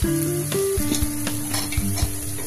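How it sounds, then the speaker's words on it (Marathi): Fenugreek leaves fry in ghee while being stirred, a close, steady sizzle broken by short scraping stirs, with a faint hum underneath. "त्याच्यामध्ये ही मेथी टाकायची, आपल्याला फ्राय करून घ्यायची"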